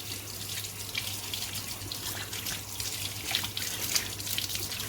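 Tap water runs in a steady, close hiss into a kitchen sink as soapy hands are rinsed off during cooking, with no talk over it.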